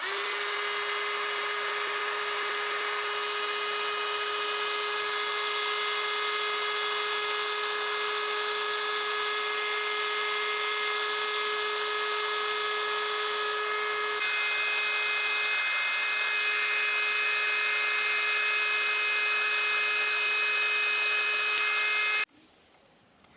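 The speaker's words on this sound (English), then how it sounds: "Let's go ahead and shrink it with the heat gun." A Let's Resin heat gun blows steadily while shrinking plastic, a constant high whine and airy roar that shifts pitch midway, then cuts off abruptly at the end.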